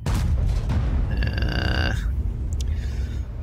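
Jagdtiger tank destroyer gun in World of Tanks firing a single heavy shot, a loud booming blast with a ringing tonal tail that decays within a couple of seconds.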